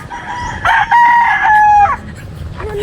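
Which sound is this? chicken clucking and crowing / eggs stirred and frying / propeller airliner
chicken clucking and crowing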